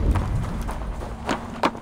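A flaming cat mount runs in Assassin's Creed Valhalla, its hooves giving a steady run of soft clip-clop thuds at close range, with a couple of sharper accented steps over low game ambience.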